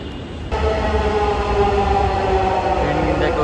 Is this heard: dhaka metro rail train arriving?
yes